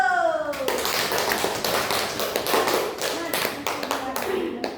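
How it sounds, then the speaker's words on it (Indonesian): Students in a classroom clap after a group presentation, sharp uneven hand claps close by with some scattered thumps, and young voices chatter underneath. "Tepuk tangan dulu."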